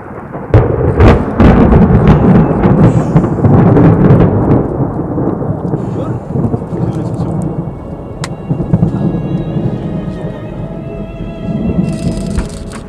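A loud, deep roll of thunder booms and rumbles during a hailstorm, then slowly fades into a lingering low rumble with light rain in the background.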